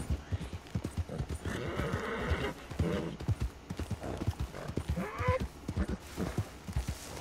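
Steady clip-clop of a video game mare's hooves at a walking pace, close and rhythmic, with a brief whinny partway through.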